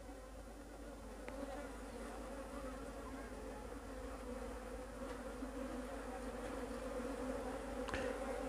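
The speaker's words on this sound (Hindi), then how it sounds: "थोड़ा इसको धक्का लग गया था जिस वजह से मधुमक्खियाँ काफ़ी एग्रेसिव हो रही हैं" Honeybees buzzing agitatedly after their hive box was bumped and frames were moved, a dense, continuous swarm drone with scattered closer passes of individual bees, steady and fairly loud throughout.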